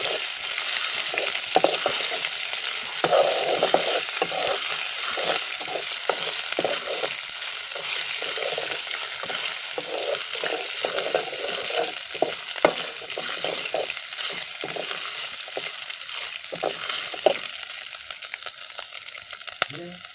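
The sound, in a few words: frying homemade ginger garlic paste in pan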